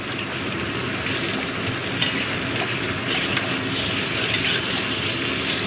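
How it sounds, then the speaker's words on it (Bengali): Chopped tomato being stirred into fried chhana in a pan for a Bengali curry, with a constant close sizzle broken by a few utensil scrapes against the pan. "এবার টমেটোটা দিয়ে দিলাম। টমেটোটা দিয়েও মিশিয়ে দেব।"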